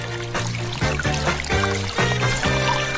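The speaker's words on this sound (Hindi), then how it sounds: "और अब हमें इसे पानी से भरना है।" A bathtub being filled with hot, fresh water, with a steady pouring and trickling stream that rises in pitch in repeating swells, close and continuous.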